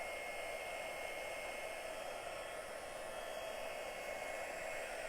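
A heat tool blowing on a plastic window sheet for embossing, a steady airy whooshing hum that holds constant and close for the whole stretch with no pauses.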